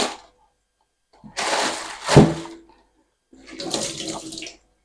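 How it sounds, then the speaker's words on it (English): Tap water runs over vegetables being washed at a sink, splashing in two bursts separated by a short pause, close and fairly loud. "and then wash my vegetables before I chop them."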